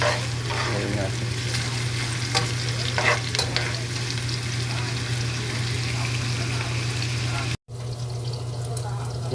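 Mung beans (ginisang munggo) sauté in a pan with a loud, steady sizzle. There is a constant low hum and a stir now and then, and a brief cut interrupts near the end.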